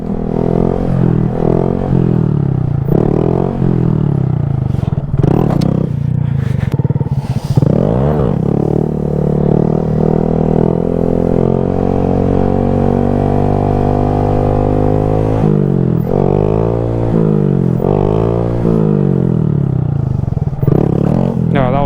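A Honda Grom 125cc motorcycle engine worked through the clutch, loud and close, its revs rising and falling in repeated swells with brief drops and a long sustained pull in the middle.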